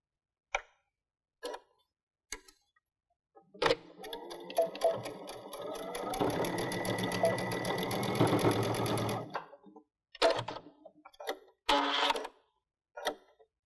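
A sewing machine stitches the side seam of a drawstring backpack, running steadily for several seconds up close after a few short isolated clicks and taps, followed by a couple of brief stitching bursts at the end.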